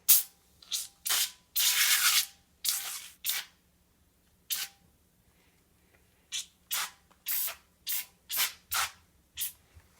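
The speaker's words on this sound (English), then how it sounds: "spray some degreaser on it" Bursts of degreaser sprayed from a can onto an intake plenum in a garage, about a dozen short hissing blasts of varying length separated by brief pauses, close and fairly loud with no talking.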